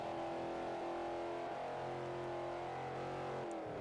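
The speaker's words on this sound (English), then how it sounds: "Again, that Mustang sounds really good." Ford Mustang V8 engine in the Forza Horizon racing game, holding a steady loud drone with shifting pitch as it revs under load, continuous with no talking.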